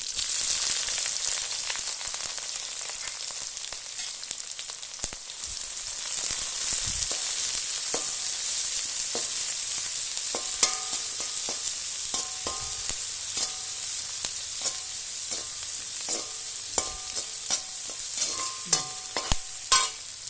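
Steady hot-oil sizzle of shallots frying in a pan, continuous and close, with occasional clinks and scrapes of a spoon stirring.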